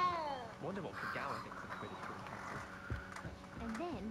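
Several cats meow in Hogwarts Legacy, a run of short, clear mews spread through the moment under steady game music and ambience, with a person talking faintly in between.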